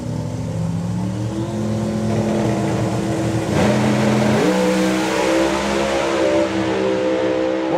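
Drag racing at an FIA FIM event, a supercharged EFI Mustang and turbocharged EFI cars: loud engines rev and climb in pitch, with gear-shift drops and a surge of power midway, heard without voices.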